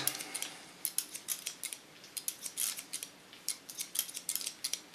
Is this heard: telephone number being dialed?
no